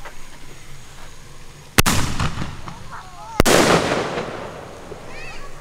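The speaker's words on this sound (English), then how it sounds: "So I'm going to shoot this mortar off right now." Two loud firework mortar booms a couple of seconds apart, each a sharp blast followed by crackling and rumbling echo, with faint whistling afterward.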